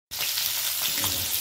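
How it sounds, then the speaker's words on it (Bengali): Fish fries in hot oil, giving a loud, dense, steady sizzle that starts abruptly and holds unbroken at close range. "দেখো এখানে মাছ ভাজা করা হয়েছে, মাছ ভাজা করা হচ্ছে"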